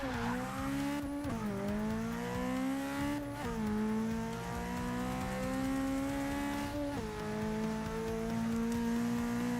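A Toyota AE86 racing the mile in Forza 6, its engine droning steadily at high revs with three sharp drops at gear shifts, each followed by a climbing pitch as speed builds.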